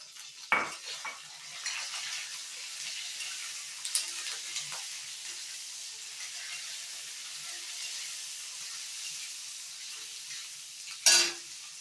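Curry leaves frying in an oiled pan for tomato pachadi, a steady soft sizzle throughout with occasional light utensil clinks and a sharp metallic knock near the end.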